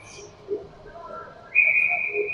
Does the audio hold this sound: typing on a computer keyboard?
no